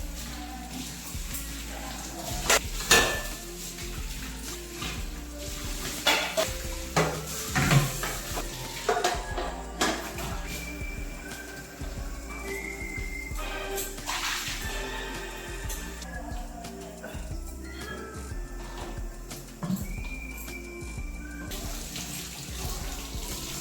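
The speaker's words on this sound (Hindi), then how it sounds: "तो अभी थोड़े बहुत जितने भी बर्तन निकले हैं तो सारे बर्तन अभी मैं धुल" Dishes being washed under a running kitchen tap, with steady water flow, splashing, and clinks and clatters of utensils knocking together at irregular intervals.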